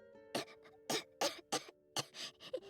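Quiet, close coughs in short bursts, about seven or eight rough hacks and throat-clearing sounds spaced irregularly over a steady low hum, from a female character in Genshin Impact.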